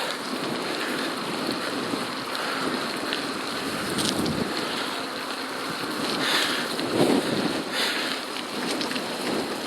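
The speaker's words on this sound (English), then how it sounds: "I certainly feel right now like I'm riding into the wind." Steady rushing wind buffeting the microphone while cycling into a headwind along a city street in Toronto, a loud continuous roar with slight gusty swells and no talking.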